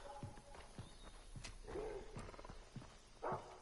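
Dog in Far Cry 3 growling in low, throaty bursts mixed with scattered thuds and footsteps, moderately close, ending in a louder snarl.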